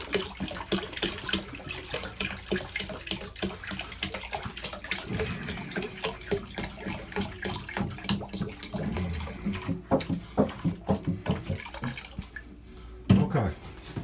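Shower water runs and splashes irregularly at close range, a spattering patter with uneven bursts and drips, continuing for most of the time before a brief louder knock near the end.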